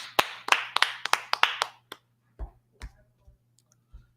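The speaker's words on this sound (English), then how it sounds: "Clap it up for the class." A small class claps with a quick run of sharp, close hand claps, then a few scattered, softer claps that trail off into near silence.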